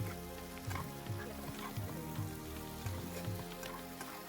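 Boiled potatoes and mushrooms sizzle and fry in a pan while being stirred, a steady crackling hiss with soft repeated scraping strokes, close and continuous.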